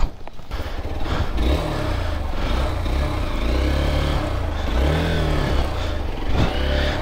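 A motorbike engine revs hard and continuously while off-roading on a rough Nuwakot trail, the note surging and dipping in repeated waves, close and loud throughout.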